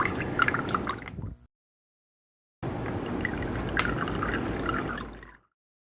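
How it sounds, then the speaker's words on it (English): New vinegar poured into a container holding eggs, two bursts of splashing, trickling liquid separated by a short silence, close and moderately loud. "For the old vinegar, we'll throw it out. And let's put new vinegar in."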